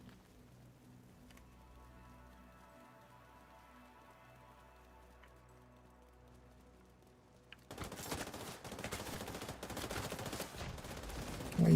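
Video game gunfire erupts abruptly after a stretch of low, steady droning hum, becoming a dense, continuous rattle of rapid shots that stays loud and grows slightly toward the end, with no talking.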